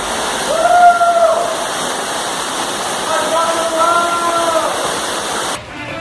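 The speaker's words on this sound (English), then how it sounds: "It's one of the oddest waterfalls." A steady rush of falling water from a waterfall in Myanmar, heard from behind the falls, fills the scene, with faint voices and tonal sounds briefly rising over the constant roar.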